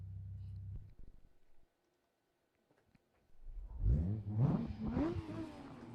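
A car engine in the Assetto Corsa racing game, part of a drift pack, revs up loudly after a quiet lull, its pitch climbing and falling through several sharp bursts over a steady rumble.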